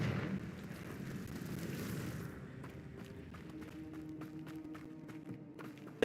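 A Confringo blasting spell is cast in the video game Hogwarts Legacy: a loud, broad roaring burst lasts about two seconds, then fades into quieter scattered taps and thumps.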